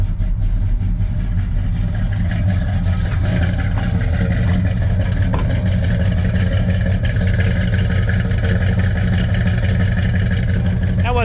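An old truck idles after a cold start, giving a loud, steady, close engine rumble throughout with slight unevenness and no clear revving. Speech is faint or absent.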